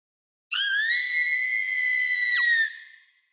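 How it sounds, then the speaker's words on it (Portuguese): High, sustained shriek from girls echoing through a hospital, a single loud cry held for about two seconds, sliding and wavering in pitch before tailing off abruptly, with no talking. "Os gritos de Nami, Keiko e Kumi ecoam através do hospital"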